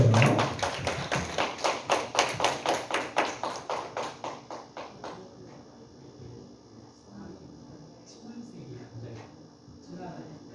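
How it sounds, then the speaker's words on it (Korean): Children at a Sunday church youth service clapping in unison, loud rhythmic synchronized claps at a steady beat for about five seconds, then fading into quieter scattered room noise and voices. "우리 박수로 우리 상 받은 친구들 축하해 줘요"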